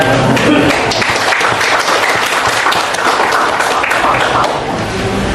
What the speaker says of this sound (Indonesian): Mari kita berikan tepuk tangan kepada